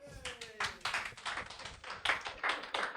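A small audience claps during a management-school talk, the claps coming in uneven, clustered bursts of taps rather than a steady roar, fairly close and moderately loud, with no talking over it.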